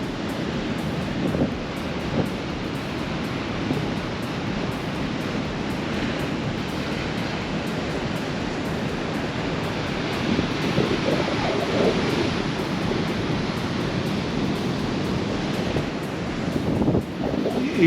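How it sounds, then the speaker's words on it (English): Ocean waves roll in on a beach on a dull, grey day, a continuous broad wash of surf that swells and recedes, with wind buffeting the microphone throughout and no voices. "I just watch these waves come in."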